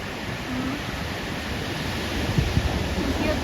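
Ocean waves wash onto a California beach as a steady broadband roar of surf, with faint distant voices in the background.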